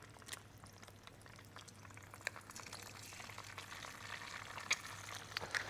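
An egg sizzling and crackling in a hot pan for a Korean bowl dish, a low steady fry hiss with a few sharper pops, faint and continuous with no talk.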